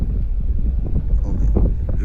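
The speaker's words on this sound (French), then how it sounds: "Il y a beaucoup de vent et on a froid." Strong, cold wind buffeting the microphone on an early-morning mountain hike in the Basque Country, a constant low roaring rumble with gusty swells, loud and close, with no voices.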